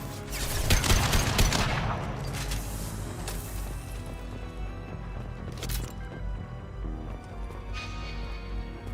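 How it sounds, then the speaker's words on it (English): Gunfire in a video game during a live stream, a dense burst of shots loud at the start, then continued crackling fire and further scattered shots throughout. "Firing a high-impact shot!"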